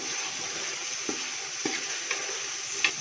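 Garlic-ginger paste with coriander and green chili frying in a pan, a steady close sizzle with a few soft scrapes as it is stirred, no talking.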